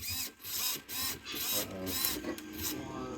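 A nearly new Traxxas RC servo on an RC fan boat glitches. It gives faint, close, whirring and buzzing bursts that stutter on and off in an uneven rhythm.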